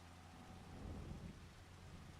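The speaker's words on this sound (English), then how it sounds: "It's raining. That rain is slowing me down." Steady rain with low rumbling thunder in the Farming Simulator 25 video game, a continuous wash of noise heard alone without talk.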